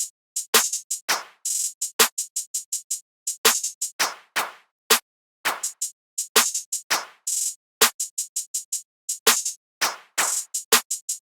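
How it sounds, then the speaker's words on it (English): A punchy FL Studio drum loop of sharp roomy claps layered with quick hi-hat ticks, repeating in a steady groove with no other sounds. "I have this room clap just to accent the claps and the hi-hats"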